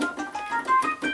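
Quick, bright Hammond organ notes using the percussion feature alone, with a percussive attack that decays quickly, played in a short rhythmic run.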